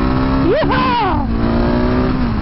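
Husqvarna 701 Supermoto single-cylinder engine revving up through second gear, rising sharply in pitch then settling into a steady drone, close and loud.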